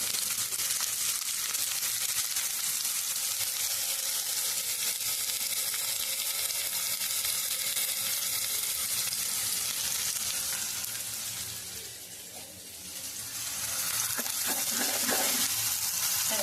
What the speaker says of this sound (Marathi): जिरा आपलं भाजलं चांगलं हिंग पण चांगलं भाजला